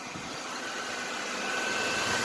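A 1999 Buick LeSabre engine runs at a steady idle, a smooth continuous hum with broadband mechanical noise that swells slightly toward the end, with no talking.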